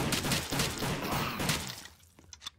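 Rapid, repeated gunfire spammed in the Roblox zombie game Rise of the Dead, a dense burst of close shots for about two seconds that cuts off, leaving a couple of faint clicks.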